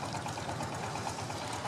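A small long-tail boat engine on a lake drones steadily with a rapid, even chugging rhythm, faint and continuous, with no voices.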